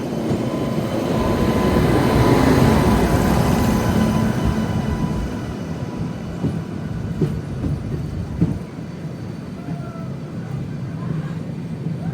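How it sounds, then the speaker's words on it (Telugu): The Ashokapuram–Kacheguda Express approaches on the line, a loud rumbling train roar that builds and then eases, with faint clicks and rattles and no talking over it. "అటు సైడ్ నుంచి వస్తుంది చూసారా? అశోకపురం కాచిగూడ ఎక్స్ప్రెస్."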